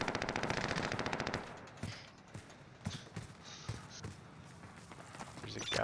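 Rapid automatic gunfire in a Warzone-style battle royale match, a long burst of close shots followed by scattered single shots and sharp impacts at a lower level.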